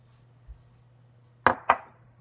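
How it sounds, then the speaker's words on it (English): Rolled oats go into a big mixing bowl for oat and peanut butter breakfast bars: two quick, close clattering bursts about a quarter second apart, after a soft thump, over quiet room hum. "we're going to add our 3 cups of rolled oats"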